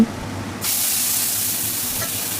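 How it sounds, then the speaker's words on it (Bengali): Cumin and black cumin seeds hit hot oil and start sizzling loudly. The sharp hiss begins partway in and stays strong and steady to the end, with no talking. "এবার ওই তেলেই দিয়ে দেব সামান্য একটু জিরে ফোড়ন ও সামান্য একটু কালো জিরে ফোড়ন"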